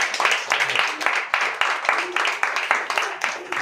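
A congregation at a Telugu Sunday church service claps in steady rhythmic unison, a crisp even beat continuing throughout, with a voice speaking over it.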